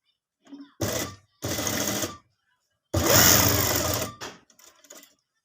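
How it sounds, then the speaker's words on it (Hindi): Sewing machine stitching a dupatta, three loud bursts of rapid mechanical whirring separated by short silences, close up, followed by a few quieter clicks at the end. "यहाँ पे दुपट्टे से पीछे रख के सिलाई शुरू किया"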